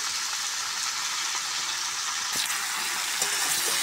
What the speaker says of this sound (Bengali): তো এই যে সবজিটা আগে ভেজে নিই, একটু হালকা হালকা ভাজা করলে